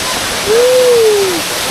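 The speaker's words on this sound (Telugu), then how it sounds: "సూపర్ ఉంది వాటర్ ఫాల్స్" Loud, constant rushing of a waterfall in the Kolli Hills fills the air, broadband and unbroken, with a brief tonal whistle or call rising over it.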